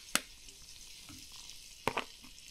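Sweet Dumpling squash frying in butter in a pan over a wood fire, a soft continuous sizzle punctuated by two sharp utensil knocks, one at the start and one near the end.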